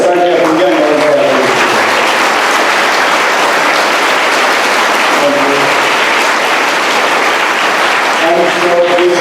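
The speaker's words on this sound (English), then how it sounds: "I request the dear children to give a huge round of applause to Sports Authority of India" Children at a school aquatic meet and National Sports Day event applaud loudly and continuously, a dense roar of clapping hands with a voice speaking over it at the start and end.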